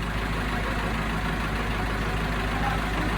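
A farm tractor engine running steadily nearby, a continuous low rumbling drone with even loudness throughout.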